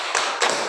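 Two sharp claps from a group keeping the rhythm of a chant in a session of Indonesia's PKH family development programme, close and loud with a short gap between them, and no talk.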